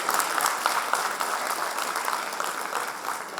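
Sustained applause from an audience at a bank officers' association general body meeting as a general manager goes up to speak, a dense steady clatter of many hands clapping with no pause throughout.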